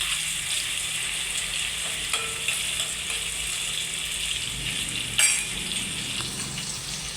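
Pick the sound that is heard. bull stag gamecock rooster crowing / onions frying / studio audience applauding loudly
onions frying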